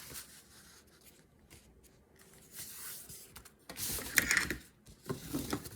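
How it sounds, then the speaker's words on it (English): Paper being folded in half by hand for a mini booklet made from 8x8 sheets, heard as quiet crinkling and a sharper creasing rustle near the end, close and soft. "And then we're gonna fold it in half again, the other way."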